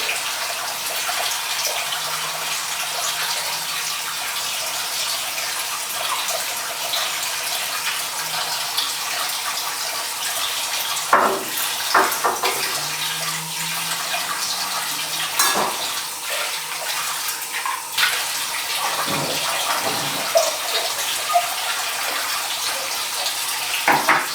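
Cold water runs steadily from a tap in a shared student house, a continuous close hiss with occasional splashes and knocks over it and no speech.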